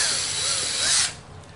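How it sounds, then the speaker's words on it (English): A 1/8 inch drill bit boring out screw holes in a 2007–2013 Chevy Silverado center console cover, giving a steady high whine of about one second that stops abruptly, with no talk. "you simply want to drill these out"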